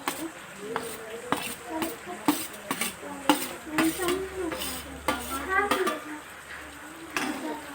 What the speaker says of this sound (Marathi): पनीर तळून घ्यायची यामध्ये आपल्याला पनीर टाकून घ्यायचं आहे